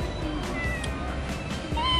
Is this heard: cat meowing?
yes